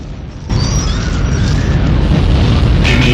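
A sudden loud boom bursts in and settles into a sustained, rumbling roar, like an explosion sound effect that stays heavy and dense.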